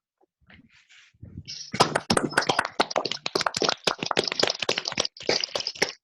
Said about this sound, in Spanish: Le damos un aplauso al grupo.